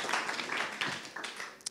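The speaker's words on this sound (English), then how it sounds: "Let's give her a round of applause" Applause rises for a speaker at a science conference, a soft, fairly distant wash of clapping hands in a hall with faint voices mixed in.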